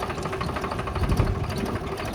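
A tractor engine idles slowly at low rpm, a steady close-up mechanical rumble with a regular pulsing beat and no voices.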